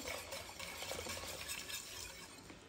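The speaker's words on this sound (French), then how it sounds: "Et on continue à bien mélanger." A lasagna mixture is stirred in a pot, giving a continuous soft scraping and churning with faint clinks, quiet and close, with no voices.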